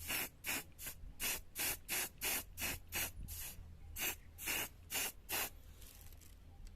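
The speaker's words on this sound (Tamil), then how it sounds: "நான் ஸ்ப்ரே பெயிண்ட் பண்ணிட்டேன்" Short, sharp hissing bursts of spray paint repeat in a quick, uneven rhythm, close and fairly loud, with a brief pause partway through.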